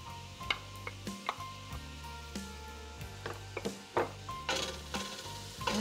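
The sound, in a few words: chopped onion sizzling and stirred in pot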